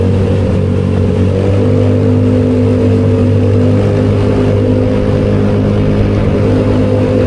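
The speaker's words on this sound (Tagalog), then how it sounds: "Ingay ng motor." Motorcycle engine droning steadily and loudly up close on a ride down from Baguio, a constant low hum with no talk over it.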